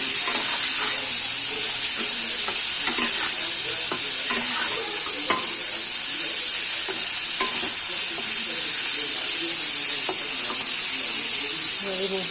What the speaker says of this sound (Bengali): এই যে লঙ্কা গুঁড়ো, হলুদ গুঁড়ো আর নুন দিয়ে এই ফুলকপিটা ভাজছি, ফুলকপিটা আর আলুটা ভাজছি